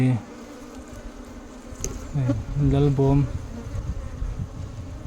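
Honeybees buzz loudly and steadily through a honey harvest, a dense close swarm drone with a louder swell in the middle, while a voice is heard faintly underneath.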